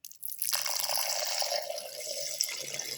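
Cream milk poured into a blender jar, a brief thin splash at the start swelling into a steady, close liquid trickle that runs on for a few seconds, alone without talk.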